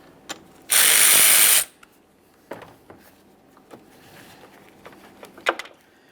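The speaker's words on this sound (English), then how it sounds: "You can see a 10mm hidden mounting nut. You only need to loosen this." A hand ratchet loosens a 10mm battery terminal nut on a 2015-2020 Ford F-150 3.5L V6, with one loud, close burst of rapid pawl clicking lasting about a second, followed by scattered quieter knocks and handling clicks.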